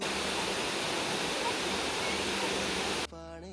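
Water pours down a waterfall in a steady, loud, close roar, cut off abruptly near the end.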